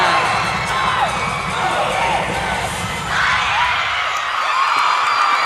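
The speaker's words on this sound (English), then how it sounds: "The crowd is going crazy." Loud, continuous crowd cheering fills a high school cheerleading state finals arena, a dense roar of shouts, whoops and high-pitched screams that swells and stays steady throughout.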